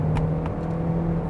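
Engine of a 2021 Kia Optima with a 6-speed automatic, a loud steady drone with a sustained hum and brief interruptions as gears shift, heard from inside the cabin without talk.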